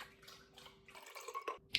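A little water is swished and shaken around inside a mug, giving faint, soft sloshing and dripping sounds close by in a quiet room.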